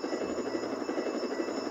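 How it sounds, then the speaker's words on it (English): Police helicopter in a video game setting down to land, its steady rotor thrum and turbine whine continuous and fairly close, with no talk over it. "I'm gonna land my police chopper here."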